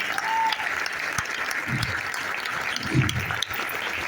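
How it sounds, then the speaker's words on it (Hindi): An audience at a business-plan seminar in Thane claps loudly and steadily, a dense wash of applause filling the room throughout, with a few brief tonal sounds over it. "तो आप अपने लिए जोरदार तालियां बजाइए"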